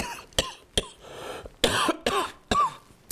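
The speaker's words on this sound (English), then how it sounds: "Forgive me if I cough a little bit during this" A man with a cold coughs repeatedly, about five or six sharp, close bursts spaced unevenly, with quiet breaths in between and no speech.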